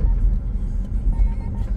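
Car tires rolling over a painted white road line, giving a steady low rumble from inside the vehicle, continuous and fairly loud with no talking.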